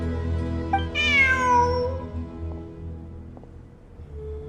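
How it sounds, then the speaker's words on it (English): A video game cat lets out a single clear, rising-then-falling meow close by, over a steady humming in-game ambience with a few soft clicks afterward. "Look, a cat."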